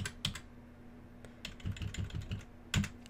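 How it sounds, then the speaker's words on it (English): Arrow keys pressed on a computer keyboard while modelling in Tinkercad: scattered close key clicks, some single and some in quick clusters, over a steady low electrical hum. "I'm just using the arrow keys"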